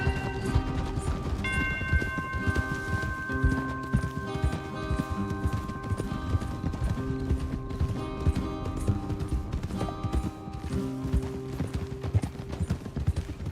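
Several horses gallop in Red Dead Redemption 2, a dense, loud, continuous drumming of hooves with a neigh early on, heard alongside sustained game music tones and no talk.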